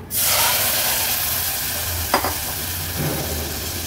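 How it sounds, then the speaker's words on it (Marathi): Red chickpeas tipped into a ground masala paste frying in hot oil for an Agri Koli-style vegetable dish: a steady, close sizzle with one brief clatter of the addition partway through, followed by continued frying hiss. "वाटण पण तेलावर छान असं आपल्याला परतून घ्यायचे। वाटण परतून झालं की हे चणे ऍड करूया।"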